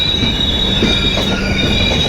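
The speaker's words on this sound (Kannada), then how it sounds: "ನಮ್ಮ ಟ್ರೈನ್ ಮೂವಿಂಗ್ ಐತೈತೆ ಇವಾಗ" A passenger train on the Goa to Bengaluru route rolling along with a loud, constant rumble and high metallic wheel squeal, heard up close from on board.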